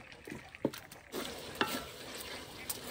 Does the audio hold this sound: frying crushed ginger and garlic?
yes